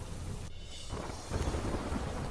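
Heavy monsoon downpour over Vapi in Valsad, with flooded streets, roars as a dense, steady wash of rain, with a low rumbling swell partway through, loud and continuous.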